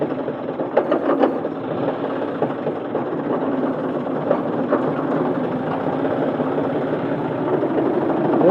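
Tractor engine pulling a load in fourth gear, hauling farm manure, with a loud, steady mechanical drone and faint rattling that rises slightly toward the end.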